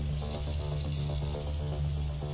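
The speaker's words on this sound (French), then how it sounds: "Quelqu'un a ouvert le robinet?" Tap water runs steadily into a bathroom sink, a continuous, fairly loud gushing stream with a faint pump-like hum underneath, heard alone without any voices.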